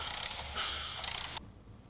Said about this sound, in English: turn the crankshaft in the normal direction 4 revolutions to settle the belt